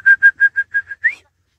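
A person whistles to signal draught oxen pulling a plough to stop: six quick, evenly spaced sharp whistle blips, then a final short upward-sliding note, close and clear against silence.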